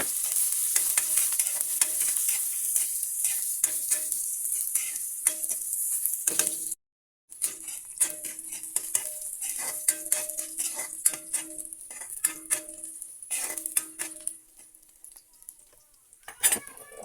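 Onion and garlic sizzling steadily in a hot pan while being cooked for shrimp in coconut milk, with bright frying hiss and repeated spatula scrapes and clinks, pausing briefly partway through before resuming.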